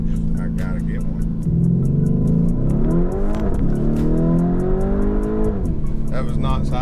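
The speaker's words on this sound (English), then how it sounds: "Those turbos in this thing sound cool." Turbocharged Lamborghini Urus engine revving hard in a loud, rising sweep that peaks and drops back, close and continuous, with people talking over it.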